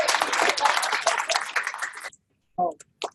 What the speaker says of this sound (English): Why don't you give a big clap?